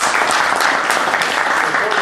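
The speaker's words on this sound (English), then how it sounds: "so she deserves the applause" Sustained audience applause at a roundtable event, a dense, steady wash of many hands clapping at close range with no talk over it.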